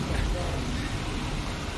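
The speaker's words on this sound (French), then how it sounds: "parce qu'il pleut dehors" Rain falls steadily outside in a Resident Evil 4 game scene, a dense, even hiss filling the whole moment with no break.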